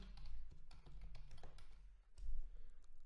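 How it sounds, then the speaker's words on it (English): Quick, soft key taps at close range as a password goes in on a computer keyboard, an even rhythm over low background hum. "Of course, you'll need to type in your password."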